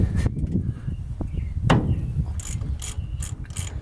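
A ratchet wrench breaks loose a bolt on a Mopar 8.25 rear end in a Dodge D150 truck, with rapid clicking pawl strokes in short bursts, close and fairly loud, and no talking.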